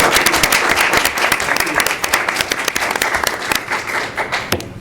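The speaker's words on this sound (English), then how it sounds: "Round of applause for Mr. Cow." Applause at a town board of selectmen meeting, a steady round of clapping from a roomful of people, loud and close, tapering off at the end.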